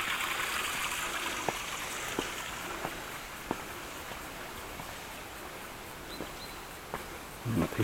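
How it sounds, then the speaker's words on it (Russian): Cold spring water flows and trickles steadily outdoors, a continuous broad rushing wash with occasional small splashes and light knocks close by, without talk. "вот водичка течет"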